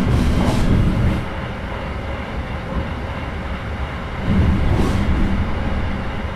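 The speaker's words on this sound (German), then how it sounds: "Die haben aber sauber abgehängt, die S-Bahn." An S-Bahn train departs in Train Simulator Classic, a loud, close rumble with rushing noise that swells near the start, eases, then builds again toward the end, with no talk.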